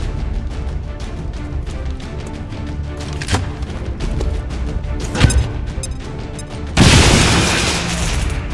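A grenade goes off in a video game, a loud crashing blast that breaks through dense ongoing gunfire and battle noise, following a couple of sharper earlier bangs.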